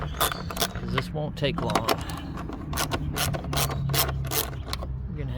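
A 4 mm Allen key turns screws on the air filter assembly of a Kohler KT735-KT745 7000 Series commercial engine, making repeated close metallic clicks, scrapes and rattles while someone talks over the work.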